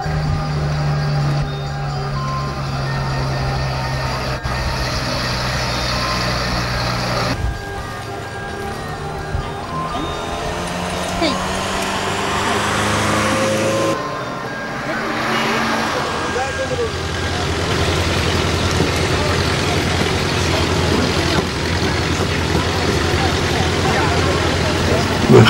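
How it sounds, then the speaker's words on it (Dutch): A truck labouring up a steep road in Lembang, Indonesia, a loud droning engine that shifts pitch as it changes gear, with people talking over it. "Een beetje te stijl voor die vrachtwagen."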